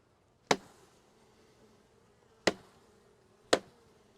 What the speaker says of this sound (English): I'm going to shake these bees off of this